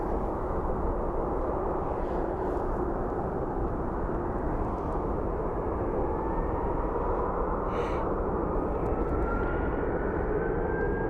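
Southwest Airlines jet airliner at an airport, a steady broad roar of engine noise filling the whole stretch, loud and continuous without any talk.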